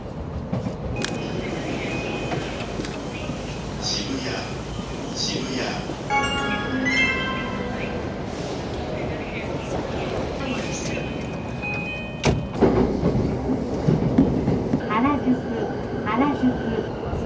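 Tokyo Yamanote Line train running on its rails, a steady rumbling rolling noise throughout with sharper clanks near the end, under an onboard announcement voice.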